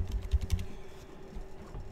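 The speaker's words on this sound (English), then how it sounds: "I'm just typing as fast as I can." Fast typing on a computer keyboard during an online Legacy card game broadcast, faint quick clicks in a brief flurry over low room hum, then a steadier quieter patter.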